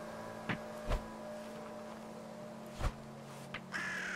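In the Winter Survival video game, a crow gives several sharp caws spaced a few seconds apart over a steady low game-world hum and faint tones, fairly close and clear.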